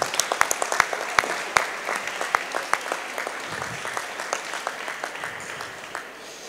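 Audience applause at the official opening of a food and flavours fair, a steady wash of many hands clapping with sharp individual claps popping out, sustained for several seconds without speech.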